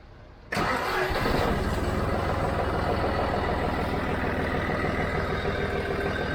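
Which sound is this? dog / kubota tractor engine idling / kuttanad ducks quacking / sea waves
kubota tractor engine idling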